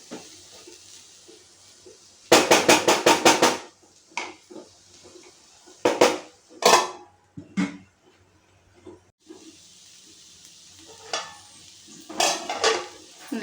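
Metal pot lid lifted and set down during cooking of chichinga (snake gourd) masala, heard as a quick run of clattering clanks followed by a few sharper knocks and scrapes, close by, with soft sizzling between them.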